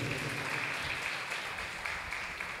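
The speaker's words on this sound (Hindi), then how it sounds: "ताली बजा के स्वागत करो।" A crowd at a Hindi-language church retreat at Divine Vachan Ashram in Ballarpur claps steadily to welcome a guest, sustained applause filling the hall without pause.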